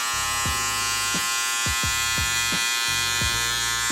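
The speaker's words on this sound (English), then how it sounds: "making sure that you move around with your clipper work" Electric hair clippers buzz steadily and loudly while cutting a skin fade, with short repeated dips in pitch as the blades bite into hair, with no speech.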